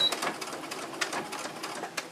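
A sewing machine stitches around the edge of an exposed-core cloth pad with a PUL backer, giving a quick run of rapid, light ticking stitches close by.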